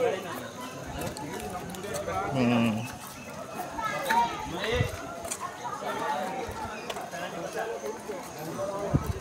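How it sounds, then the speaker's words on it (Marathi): Horses clip-clopping near the toy train station at Matheran hill station, hoof taps mixing with children playing and people chattering close by in a busy outdoor scene. "इकडे घोड्याने फिरायला जातात"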